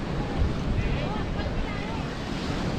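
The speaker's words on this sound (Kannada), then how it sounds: "ಸಮುದ್ರ ಅಲ್ಲಿ." Surf rolls and breaks along Baga beach in Goa, a continuous wash of waves mixed with wind buffeting the microphone, while people talk over it.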